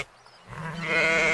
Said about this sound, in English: This is a sheep, a farm animal.